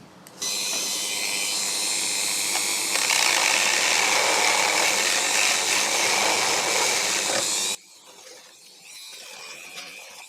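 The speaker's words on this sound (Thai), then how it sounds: "เดี๋ยวผมจะใช้ดิมเมลตัวนี้ ขัดนะครับ เพื่อให้ ไม้ตัวนี้มันหลบตัวของเบ้าก้านคันโยกนะครับ" A Dremel rotary tool grinds and sands a piece of wood so it clears a six-post lever socket, a loud steady high-pitched whine running several seconds, its pitch shifting under load, then cutting off abruptly to quieter room sound.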